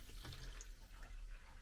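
Fresh fuel is poured into a car's tank, giving a steady, fairly quiet liquid trickle and gurgle that lasts about a second and a half with no talking.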